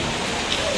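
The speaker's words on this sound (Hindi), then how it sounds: "ये देखें, ये बारिश हो रही है ना" Rain falls in Riyadh as a steady, close hiss of drops in a brief moment with no voices.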